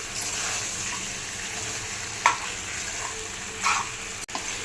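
Macaroni in tomato sauce stirred in a hot pan: an even, close frying hiss with a few brief scraping strokes of the spoon against the pan.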